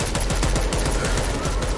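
A weapon in the zombie game Dead Island 2 fires continuously in a dense, loud stream of rapid shots that lasts the whole moment.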